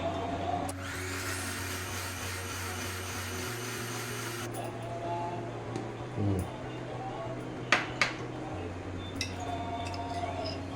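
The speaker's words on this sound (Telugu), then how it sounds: "కొంచెం దీనికి మిక్సీ తిప్పిస్తానండి ఆకుని" A mixer grinder whirs steadily at close range blending cooked ponnaganti greens, its motor pitch shifting as it runs, with a few clinks near the end.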